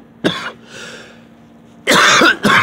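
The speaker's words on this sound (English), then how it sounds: "I'm actually coughing." A person coughing hard at close range, one short cough, then a loud harsh cough lasting about half a second and a final quick cough, with a faint breath between them.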